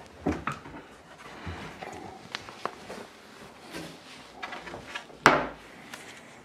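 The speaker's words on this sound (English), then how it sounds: "And so I'm gonna pull that shelf out." A wooden cabinet shelf is pulled out with scattered knocks, scrapes and wooden clunks, one sharper bang near the end, fairly close and moderately loud without talk.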